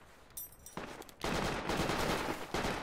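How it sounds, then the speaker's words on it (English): Bursts of automatic gunfire in the military shooter Project Reality, in an urban city battle; fairly faint shots pick up into sustained rattling volleys after a scattered start. "That's it, shoot it for the window, keep shooting."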